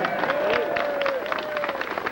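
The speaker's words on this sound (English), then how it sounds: "You want to applaud Willis? Go ahead." An audience at a Hollywood Walk of Fame ceremony claps for King Kong animator Willis O'Brien, a brief burst of scattered applause under a faint steady tone and murmur.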